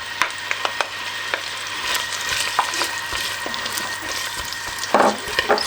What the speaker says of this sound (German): Ich brate jetzt hier in etwas Ghee die Zwiebeln an.